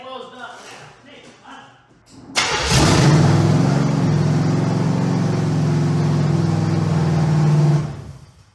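A 1978 Camaro race car engine cranks and fires up loudly, then revs hard and holds a steady, roaring high idle for several seconds; voices are heard talking before it starts.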